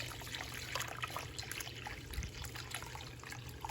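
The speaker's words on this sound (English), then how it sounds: "we're gonna add the liquid right into that strainer" Hot apple cider flows steadily from a hot pot into a strainer. The pour keeps up a continuous soft splashing trickle close by, with no voices.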